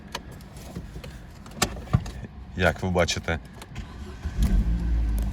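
A 2008 Opel Astra with a 1.4 petrol engine cranks and catches near the end, its low engine rumble rising steadily under someone speaking close by.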